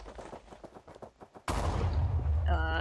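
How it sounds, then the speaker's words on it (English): TNT blowing up in a video game: a sudden loud blast cuts in halfway, a broad roaring burst with rumbling low end that keeps going, after a stretch of choppy game sounds and faint talk. "the TNT one is what's exploding"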